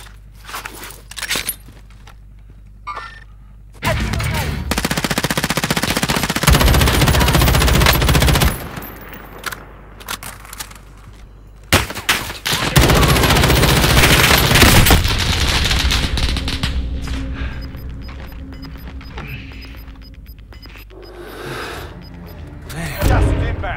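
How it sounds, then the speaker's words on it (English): Machine-gun and SMG fire in Call of Duty Warzone comes in loud, dense bursts separated by quieter gaps with footsteps and game ambience, close and harsh, sometimes with a voice speaking over it. "Someone is shooting me."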